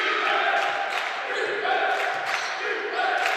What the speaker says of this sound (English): Crowd getting into it, shouting, chanting defense.